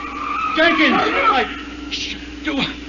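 A car skids to a halt as a sound effect in an old radio mystery drama, a squealing tire slide under tense dialogue, with a second shorter screech near the end.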